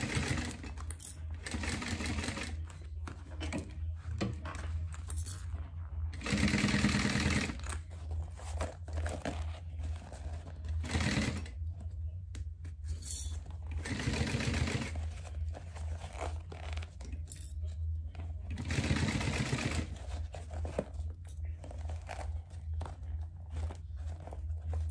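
A sewing machine stitches over an already-sewn fabric edge on a small organizer, humming steadily and close with a few short stops and louder surges, with some fabric rustling between runs.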